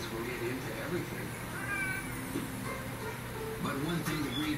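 Balinese cat meowing, a couple of drawn-out wavering meows heard under continuous talking in an indoor setting.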